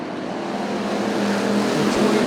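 Hobby stock race cars roaring around the dirt oval at Canyon Speedway Park, a dense continuous engine drone with rising revs, loud and steady throughout.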